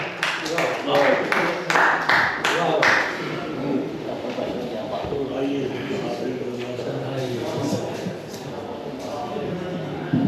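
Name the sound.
audience applause at a mushaira poetry event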